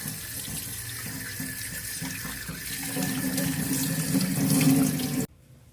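Tap water runs steadily into a sink while raw chicken is washed for chicken 65, a continuous close splashing with shifting tone that swells near the end, then cuts off abruptly, with no talk.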